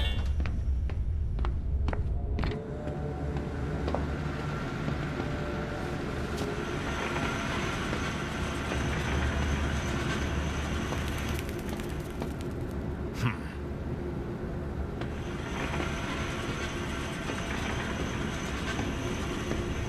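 A zoo train rolls along in the horror zoo video game Zoochosis, a steady, loud rumbling clatter that continues for the whole stretch, with brief clicks and a sharper knock partway through.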